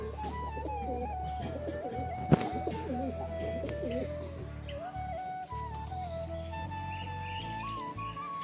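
Domestic pigeons in a loft coo steadily as they settle back into their coop, layered rolling calls close by, with a sharp knock partway through and faint background noise.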